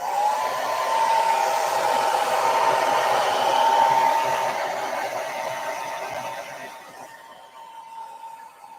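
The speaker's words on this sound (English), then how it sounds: "now I'm going to get out my blow dryer just to get this sheet dry." Blow dryer drying a painted sheet at a desk, a loud, steady whirring roar with a tonal whine that holds for several seconds, then fades and cuts off near the end.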